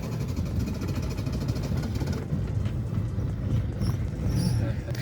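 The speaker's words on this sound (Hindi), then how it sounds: "चले हमारी अभी गाड़ी स्टार्ट हो गई है" A Suzuki Margalla with a 1300 cc petrol engine runs just after starting, a steady low rumble throughout with faint voices in the background.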